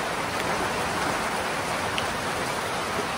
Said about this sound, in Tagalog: Ang lamig, umuulan. It's rain.